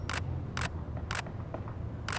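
Four sharp camera shutter clicks at a fast shutter speed, evenly spaced about half a second apart, close and crisp over a steady low background hum.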